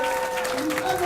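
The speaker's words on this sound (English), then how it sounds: "lots of cheering going on in the background now" Crowd at a Super Street Fighter IV Arcade Edition tournament cheering and applauding, a steady wash of clapping and shouts that fills the whole brief moment, with a voice talking over it.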